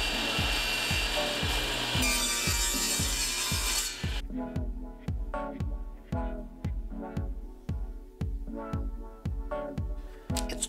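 Hand saw cutting double miters on wooden ends for an epoxy resin lamp, fast rhythmic back-and-forth strokes, close and loud, with the tone shifting as the cut progresses, steady throughout without talk.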